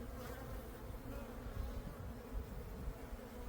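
Honeybees buzz around an open hive in a backyard apiary during an early March inspection, a soft, continuous droning hum with slight swells, close by and without speech.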